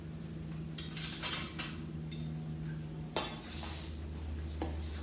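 A spoon stirs almond slivers through gluten-free granola in a bowl, giving faint, scattered clinks and soft scraping against the bowl over a low steady background.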